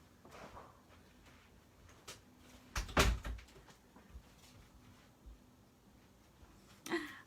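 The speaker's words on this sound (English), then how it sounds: "I'm just going to close my door." A room door is pushed shut in a home craft space, producing one solid thud with a brief rattle near the middle, followed later by a lighter knock amid quiet room tone.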